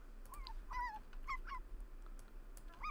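A dog in The Sims 4 whimpers and yips softly, several short high whines in quick succession over a low steady hum.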